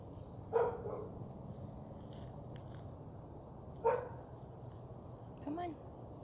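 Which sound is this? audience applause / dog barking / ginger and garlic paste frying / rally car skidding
dog barking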